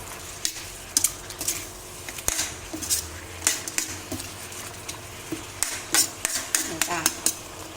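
Scattered metallic scrapes and knocks of a utensil stirring chicken curry (kaeng om) in a pot, fairly soft and irregular, with someone talking over the stirring.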